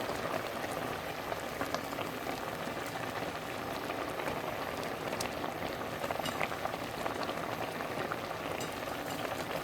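A pot of seafood okra bubbles and simmers in a continuous, even hiss with soft popping, steady throughout and with no voices over it.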